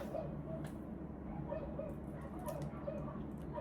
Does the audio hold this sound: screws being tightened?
no